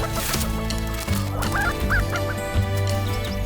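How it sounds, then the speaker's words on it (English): Prairie chickens calling on their display grounds in a large intact grassland, a loud dense chorus of overlapping honking and cooing calls that continues without a break. "When you're seeing the prairie chickens, it means that you have a healthy ecosystem."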